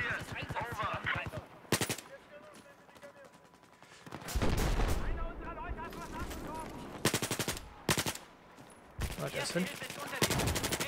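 M4 rifle gunfire in Battlefield 4, rapid automatic bursts in loud repeated volleys with short gaps between them, alongside other combat noise and someone talking over it.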